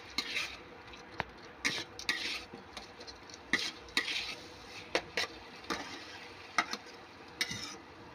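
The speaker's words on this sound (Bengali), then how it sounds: "জল দিয়ে মশলাটা ভালো করে কষাবো।" Spice paste for a spicy fish curry is stirred and fried in a pan with a little water. Repeated scraping strokes of a spoon against the pan sound close and fairly quiet over a soft sizzle, with no voices.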